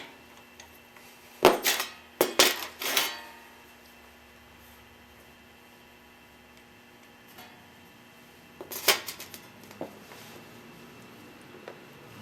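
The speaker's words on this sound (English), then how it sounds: "this is the drain bolt, and I'm going to break this loose and hopefully catch the oil as it drains out" A motorcycle fork drain bolt being loosened with a wrench: a few sharp metallic clicks and clanks in quick bursts near the start and again later, separated by quiet stretches with a faint steady hum.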